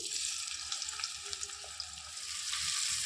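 Chopped onion hits hot white oil in a wok and sizzles steadily, a close, continuous crackling hiss with no one talking.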